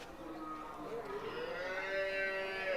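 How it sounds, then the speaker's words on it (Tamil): At the Vaniyambadi cattle market, a cow gives one drawn-out moo that swells and rises in pitch, moderately near, over faint background murmur. "வயசான மாடுகள் தாங்க நிறையா வருது"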